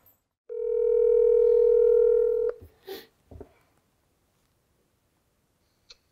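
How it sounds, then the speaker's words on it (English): A telephone dial tone hums steadily for about two seconds, then cuts off as the phone is dialed, followed by a few brief clicks and soft thumps before quiet. "real quick, I'm gonna Google this guy and then pick up the phone and call him."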